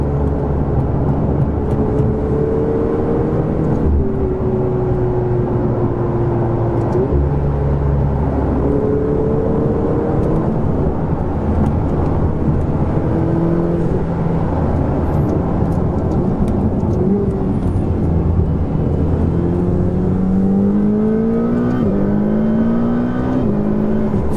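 A high-revving Ferrari 488 GT race car engine roars continuously, pitch rising and falling through gear changes, loud and close throughout.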